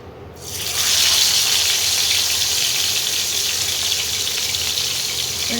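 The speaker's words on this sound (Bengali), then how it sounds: "এবারে আমি মাছগুলো ভাজবো।" Pieces of fish drop into hot oil and burst into a loud, broad sizzle that holds steady and close as they fry, with no talk over it.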